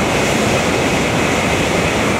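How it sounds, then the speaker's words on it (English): A Shinkansen bullet train rushes along the tracks below a bridge, a loud, steady broadband roar that fills the whole stretch with no letup and no voices. "the Shinkansen Bullet Train, which is coming right now"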